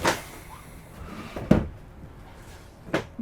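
A few soft wooden thuds and slides of a deep kitchen drawer being opened and shut in a 2026 Tiffin Allegro Breeze 33BR motorhome, spaced about a second apart in a quiet room.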